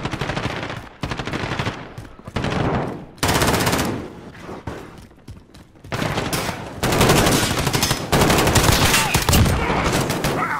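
Assault-rifle gunfire in a first-person shooter video game, loud rapid automatic bursts repeated in several long strings with short pauses between them.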